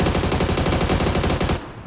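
Rapid automatic gunfire in the PUBG battle royale video game on the Vikendi map, a loud sustained burst of closely spaced shots that cuts off abruptly near the end, with no talking.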